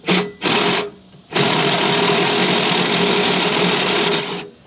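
Working under a trailer, an impact wrench spins a nut off in loud, buzzing high-pitched bursts: two short hits, a pause, then a long continuous run of about three seconds.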